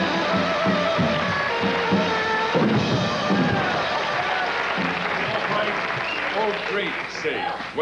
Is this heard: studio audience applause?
yes